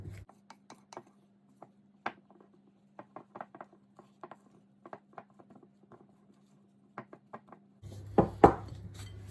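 A spoon scrapes and taps in a bowl as flour is folded into apple loaf cake batter, close up, with scattered soft strokes over a faint hum, then a louder burst of mixing near the end.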